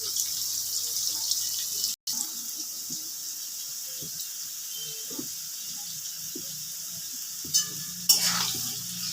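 Potatoes frying in a wok with salt and turmeric give a steady, soft sizzling hiss, broken by scattered light clinks and scrapes of stirring, with a louder scrape near the end.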